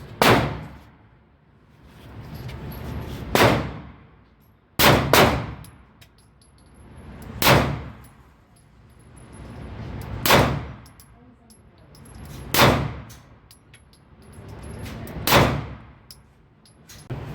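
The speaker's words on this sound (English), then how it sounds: "Here we got the Taurus. Let's see how she shoots." Taurus pistol fired six times at a steady pace of roughly one shot every two to three seconds, each crack loud and close with a short ringing tail.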